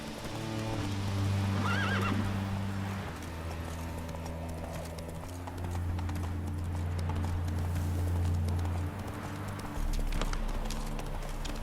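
A horse in The Witcher 3 video game whinnies early on while its hooves clip-clop steadily at a run, accompanied by a sustained low hum of game background sound.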